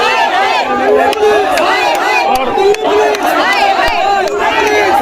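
Angry protest rally crowd outdoors after a murder case: many voices shout and chant together in a loud, close, continuous roar with overlapping calls.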